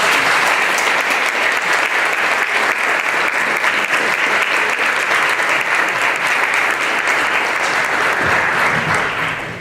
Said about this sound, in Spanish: al profesor Olivo Rodríguez Huertas, a quien yo quiero que recibamos con un aplauso muy fuerte.